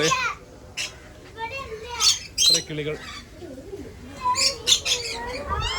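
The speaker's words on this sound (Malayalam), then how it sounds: "കിളികൾ അവിടെ ഉണ്ട് ഇത് കുറേ ഉണ്ടല്ലേ" Birds squawk and call in several sharp bursts while people talk nearby, at a pet farm in Chavakkad, Kerala.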